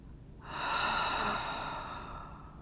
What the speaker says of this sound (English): Deep breath in, slow exhale out.